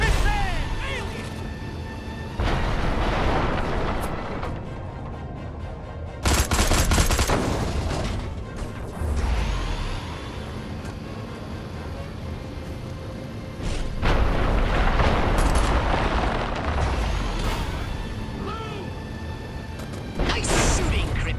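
Gunfire in Destroy All Humans! comes as repeated loud, dense bursts of blasts and booms separated by slightly quieter stretches. The battle noise stays close and busy throughout.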